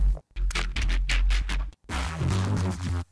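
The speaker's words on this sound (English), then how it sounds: "I've been using it to create an AI model that can generate some pretty awesome sounding Neurofunk style drum and bass sounds that sound like this." AI-generated neurofunk drum and bass: choppy bursts of gritty, distorted bass and drums separated by short gaps of silence, loud and close.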